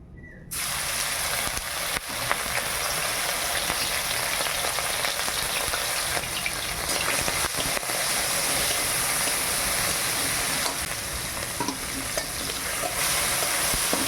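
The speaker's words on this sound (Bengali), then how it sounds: "প্রথমে আমি গেঁড়িটা ভেজে নেব।" Pond snails fry in hot oil in a wok on a gas stove, a loud, unbroken hissing sizzle that fills the whole stretch close up, with faint stirring scrapes underneath.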